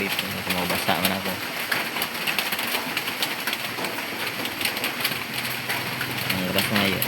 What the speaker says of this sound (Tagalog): Tapos yun malakas yung ulan, so napilitan akong huminto talaga dito kasi mabasa man ako.